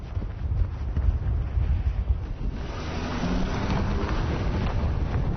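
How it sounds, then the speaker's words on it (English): Steady wind on the high grasslands of Xinjiang roaring and buffeting against the microphone, a continuous low rumble with gusty surges throughout. "it really gets very windy up here"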